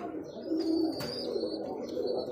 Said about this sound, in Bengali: ডাকের কবুতর ডাকবেই ভাই।